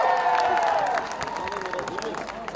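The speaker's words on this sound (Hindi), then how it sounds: "जोरदार तालियां" Applause from an audience at a film song launch event in Jaisalmer, Rajasthan, a dense spread of claps and cheering under an announcer's amplified voice, loud at first and settling slightly.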